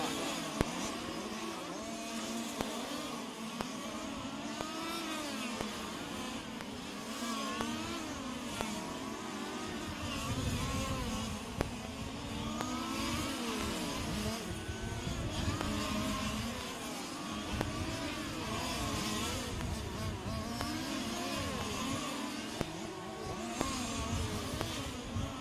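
Several 1/5 scale on-road RC race cars with small petrol engines buzz and whine around a track, their revving rising and falling as cars pass near and far in a constant overlapping drone.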